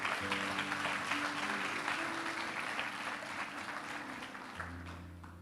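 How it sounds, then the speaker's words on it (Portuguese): A church congregation applauds during a family worship service, with broad, steady clapping that fills the hall and slowly tapers off, while a sustained keyboard or organ tone plays underneath. "Você pode dar uma salva de palmas para o Senhor."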